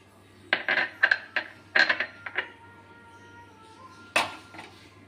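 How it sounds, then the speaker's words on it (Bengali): Flattened rice and gram flour being mixed in a bowl, heard as a series of clinking, scraping knocks against the bowl in quick bursts, then a pause and one last sharp clatter, close and with no talking. "অল্প কিছুটা বেসন এটাও আমি দিয়ে দিচ্ছি"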